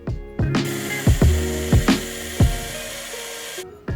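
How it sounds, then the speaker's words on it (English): A power grinder works the edge of a handmade blade: a constant whining motor with several sharp bursts of harsh grinding contact in an uneven rhythm, close and loud, cutting off abruptly at the end. "then I'm going to grind the edge"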